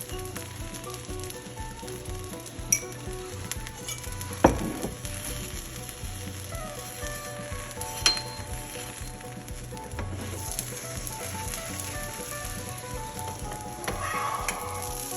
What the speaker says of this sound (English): Make sure to fry 2 minutes on each side.